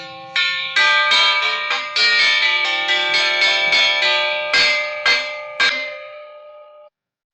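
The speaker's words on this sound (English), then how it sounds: "We went to a peck of trouble getting these genuine brass door chimes." Genuine brass door chimes ring out in a series of bright, resonant strikes, the tones overlapping and sustaining, with the last few spaced-out strokes decaying into silence.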